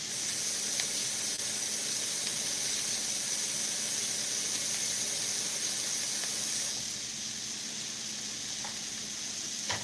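Water rinsing a hot pan used for shrimp fajitas gives off a steady, close, hissing spray with a faint squeal, easing slightly near the end, with no talking.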